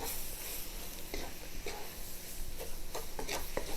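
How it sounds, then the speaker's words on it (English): A roux of flour and seasonings, including fresh thyme, stirred in a skillet, giving steady scraping and soft sizzling strokes close by, with brief spoon clatters and no talk. "And we will mix this up. We're just making a roux."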